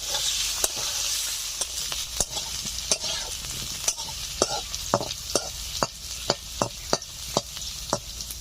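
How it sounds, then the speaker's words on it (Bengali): Potatoes frying in oil left over from frying fish, a steady sizzle broken by repeated sharp clacks of a utensil stirring the pan, close and fairly loud with no talking. "এই মাছ ভাজার তেলে দিয়ে দিচ্ছি আলু,"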